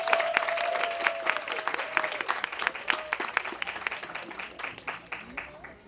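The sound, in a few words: audience applause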